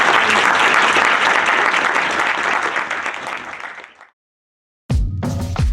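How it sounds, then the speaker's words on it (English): An audience at a writing workshop gives a round of applause, a loud, steady wash of many hands clapping that swells and then fades out over about four seconds, followed by a short silence and a brief burst of other sound. "Anyone wants to give a round of applause?"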